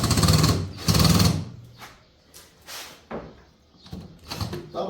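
A long power drill with a short screwdriver bit unscrews a screw from a wooden nightstand, two loud bursts of whirring followed by quieter short spins and clicks, close-up with no talking.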